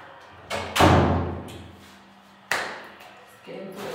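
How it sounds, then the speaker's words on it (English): An indoor door is closed, with a loud thump followed by decaying room echo and then a second, sharper knock. A television is playing somewhere in the home. "I'm gonna close the door because the TV is a bit loud."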